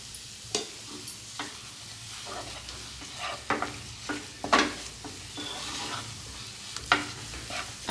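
Roasted gram halwa with ghee is stirred in a pan over low flame, a soft continuous sizzle broken by sharp scraping and clinking strokes of the spoon at irregular intervals, close and clear.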